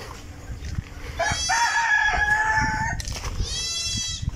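Chickens cluck steadily at a plantation chicken coop while a rooster crows loudly twice, with long drawn-out calls over a low rumble of background noise.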